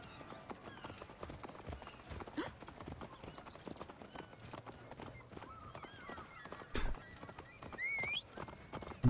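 Horse hooves clip-clop steadily at a walk in the ancient Egyptian setting of Assassin's Creed Origins, a soft rhythmic patter under game ambience, with a brief louder burst near the end.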